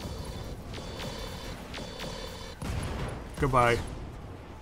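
Ultra 20 autocannon fire in the Roguetech mech combat game: a few heavy, booming bursts land close, with someone talking over the gunfire near the end.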